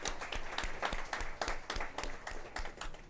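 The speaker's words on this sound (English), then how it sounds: "can I hear a round of applause for you for being here today?" An audience at a public conversation event gives a round of applause, distinct hand claps in a quick uneven rhythm, faint and distant.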